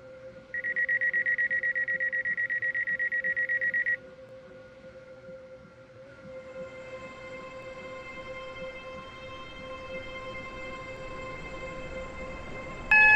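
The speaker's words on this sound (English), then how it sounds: "Train now approaching platform 3. Does not stop here." A train passes through a station in the Roblox game SCR (Stepford County Railway), with a platform chime and announcement tone first, then a steady rising rumble and hum of the passing train, ending in a sudden loud tone.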